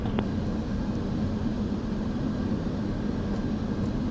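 Small airplane approaching to land on runway 30, carried as a constant, fairly loud engine and airflow drone that holds steady throughout with no distinct touchdown.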